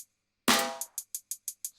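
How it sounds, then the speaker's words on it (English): Snare hits in a beat: one loud crack followed by a rapid run of short, evenly spaced snare triplet hits, then another strong hit at the end, dry and up close. "I brought in a triplet sometimes when the snare actually hit"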